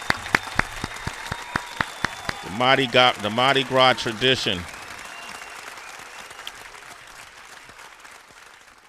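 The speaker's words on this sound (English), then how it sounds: "Give this guy a round of applause." An audience at a talk-show taping breaks into a short burst of applause, a few seconds of dense clapping between scattered claps, with a brief spoken phrase beforehand and claps trailing off afterward.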